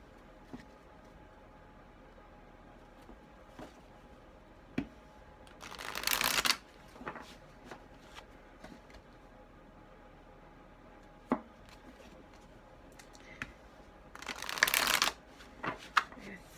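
Tarot card decks shuffled by hand, two bursts of brisk riffling about eight seconds apart, with scattered taps and card handling in between and a quiet room around them.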